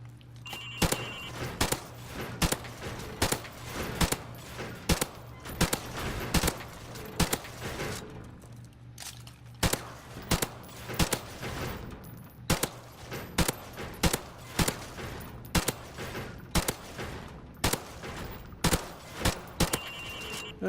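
Gunfire in Call of Duty: Modern Warfare Remastered on a practice course: steady sharp shots at a regular pace across the whole stretch, with a brief lull partway through for a reload and a constant low hum underneath.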